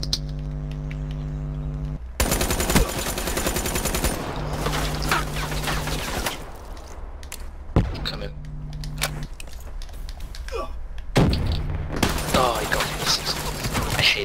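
Bursts of game gunfire from marshal pistols in a two-versus-two online shooter match, loud, sharp volleys broken by brief gaps, with a constant music or engine drone underneath and a player's voice chatting between shots.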